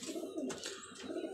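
A pigeon, a blue-eyed fancy breed kept by a hobbyist, coos softly in a couple of low, rolling phrases close by, with no talking over it.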